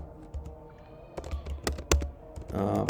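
Close, irregular keystrokes on a computer keyboard, scattered taps building into a quicker run of clicks, with a brief louder shuffle at the end.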